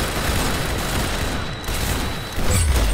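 Loud, continuous gunfire in Roblox Arsenal, a dense barrage of shots that stays steady for a few seconds with a heavier thump near the end.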